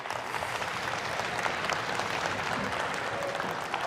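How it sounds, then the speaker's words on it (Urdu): Steady audience applause fills a hall at a business summit on Amazon e-commerce, many hands clapping continuously at an even level without pause. "تالیاں بے شک بجاتے رہیں, خود ہی ختم ہو جائیں گی"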